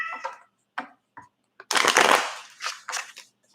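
Tarot cards being shuffled by hand in short bursts, a few quick riffles and taps separated by silence, with one longer, louder shuffle in the middle, close up and with no talking.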